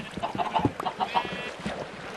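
Chickens cluck in a Minecraft chicken farm, a scatter of short clucks and squawks across the moment, moderately close, over soft game background with no talking.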